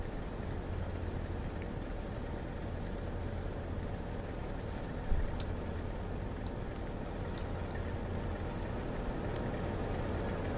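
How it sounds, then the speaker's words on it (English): A locomotive engine idles in the Train Sim Classic game on the Valley Corridor route, giving a steady low droning hum that stays constant and unbroken with no speech. "Hear that beautiful engine ticking away."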